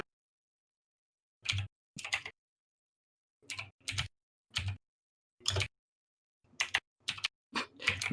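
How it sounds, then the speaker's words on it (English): Computer keyboard typing, heard up close in short separate bursts of quick clattering keystrokes with clear silent gaps between them and no voices. "Me typing"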